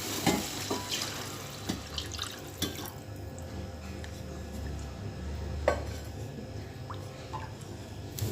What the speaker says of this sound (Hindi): डाल दूँगी 2 कप पानी।